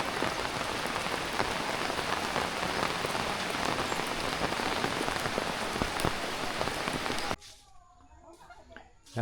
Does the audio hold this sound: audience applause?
no